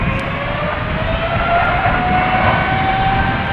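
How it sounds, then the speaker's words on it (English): An airliner bound for Frankfurt on its takeoff roll on runway 36L at Amsterdam Schiphol, a loud, steady jet engine roar with a rising whine, heard from outside with no talking. "So I'm expecting a short takeoff roll for this airplane because it is going to Frankfurt."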